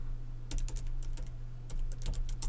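Keys clatter on a computer keyboard in two quick bursts of typing, close and fairly quiet, over a steady electrical hum with no voices.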